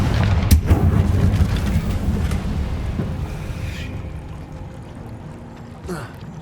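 Confringo spell blast in Hogwarts Legacy: a loud explosive burst early on, then a crackling, rumbling tail that fades, with a lighter magical swish near the end.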